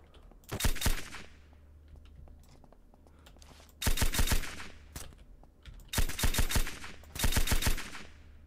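Bursts of rapid automatic gunfire from the player's weapon in the survival game SurrounDead, in four loud, sharp volleys separated by quiet gaps, with no talking.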